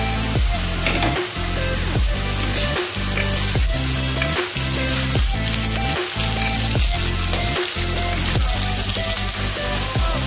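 Onions frying in hot oil with almonds in the pan, a loud, continuous close sizzle with rhythmic stirring scrapes repeating roughly every half second throughout.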